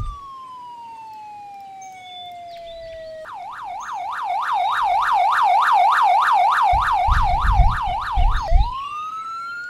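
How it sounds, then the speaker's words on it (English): A video game highway patrol police siren wails in a rapid up-and-down yelp, growing louder as it passes, then shifts to a long rising tone, with engine rumble beneath. "Hear the highway patrol going by."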